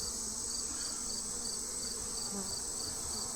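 Honey bees buzzing over an open hive full of young bees and larval brood, a steady, close insect drone that runs unbroken through the whole moment with no talking.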